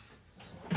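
A workbench drawer slides along faintly, then shuts with one short, louder knock at the end, close by in a quiet workshop.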